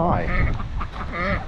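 Ducks quacking at a South Carolina beach home, a run of nasal calls mixed with a person's greeting and chatter close by.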